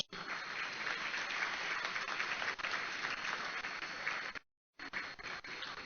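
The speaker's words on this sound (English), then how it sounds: "Big round of applause." An audience applauds at a university convocation ceremony at a medical institute, dense sustained clapping from a large crowd that cuts out briefly before resuming.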